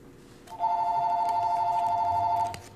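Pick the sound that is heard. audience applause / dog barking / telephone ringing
telephone ringing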